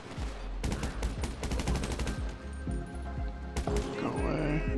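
Enemy gunfire in GTA Online: rapid bursts of automatic shots and single cracks crowd the first half, then scattered loud shots and a crash-like burst near the end, all close and punchy.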